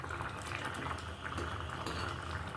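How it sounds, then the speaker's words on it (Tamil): Garlic and shallot kara kuzhambu boiling in a pot, a continuous bubbling and simmering with soft pops, close and steady throughout the short stretch. "இன்னொரு 10 நிமிஷம் கொதிச்சதும் கருவேப்பிலையை போட்டு"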